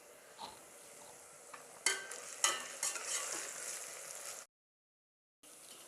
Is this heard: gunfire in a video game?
no